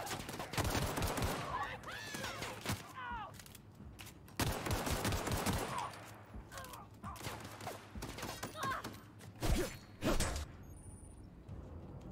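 Rapid bursts of gunfire in the sci-fi video game The Outer Worlds during a fight with a marauder, with repeated sharp shots clustered in volleys, and a player's voice talking faintly between them.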